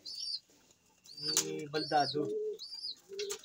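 A blue bar pigeon coos close by in soft, throaty, rolling phrases, mixed with a few higher chirps and brief gaps, while a person speaks briefly.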